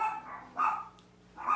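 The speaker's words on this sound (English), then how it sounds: "Oh, there goes my dog barking." A Chiweenie barks three times, sharp and somewhat distant, evenly spaced over a quiet background.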